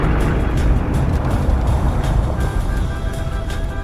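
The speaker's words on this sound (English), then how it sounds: "It's just a traffic jam." Dense, steady low rumble of idling and creeping road traffic in a jammed tunnel approach, a continuous engine drone with faint higher hiss, no clear speech.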